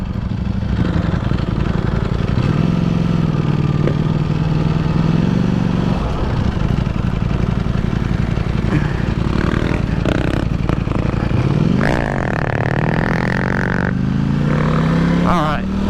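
A KTM motorcycle engine runs nearby and fairly loud, holding a steady drone before revving up near the end, with a voice talking over it.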